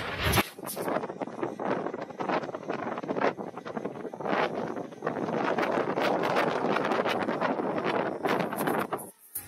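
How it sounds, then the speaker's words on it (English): Strong gusting wind of about 20 mph sustained and up to 30 mph, roaring and buffeting loudly and continuously across the microphone outdoors with no talk. "It's 20 miles per hour right now, sustained winds, and gusting up to 30."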